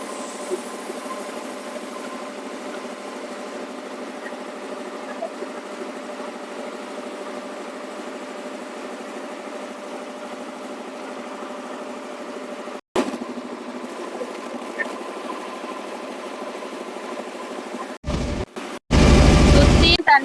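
A boat engine drones steadily on open water near Pannavadi, a continuous mid-pitched hum with faint vibration that runs through, broken by a brief cut and a few loud rushing bursts toward the end; voices are heard over it.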